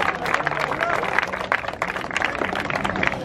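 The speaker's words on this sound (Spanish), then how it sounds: "Dale un aplauso, esos dos que se cruzaron." A crowd at a freestyle rap battle in Monterrey claps and cheers in a dense, continuous burst of applause mixed with shouting and babble, with no clear single voice.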